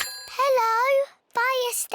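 A cartoon fire station telephone rings in two bright, warbling electronic bursts separated by a short silence. Each ring is loud, close and unaccompanied.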